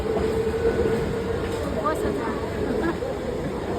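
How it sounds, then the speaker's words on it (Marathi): A passenger train rolls into a station platform with a continuous low rumble, faint clatter and a light squeal, while voices talk throughout. "फायनली आता ट्रेन येईल"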